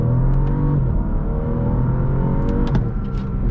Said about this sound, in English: let's take off the stop here. When the turbos kick in.